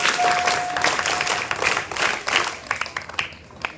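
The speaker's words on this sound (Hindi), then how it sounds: "3 क्लैप्स।" Dense audience applause at a school program at an Urdu high school in Satara, many hands clapping in a steady, fairly loud burst that thins toward the end.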